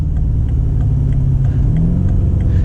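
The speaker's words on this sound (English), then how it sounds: "I like keeping manual control, so you get a little rev matching there, a little bit of exhaust." BMW M5 with a torque-converter automatic shifted manually, its engine and exhaust rumbling steadily as it blips revs to match a gear change, heard from inside the cabin.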